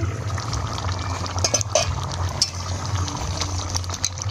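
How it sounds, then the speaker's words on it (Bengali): Fried Shankar (stingray) fish curry with potatoes simmers in a pot, making a steady close bubbling with small liquid pops and gurgles, no voices. "মাছটা দিয়ে দিচ্ছি, একটু ফুটিয়ে নেব"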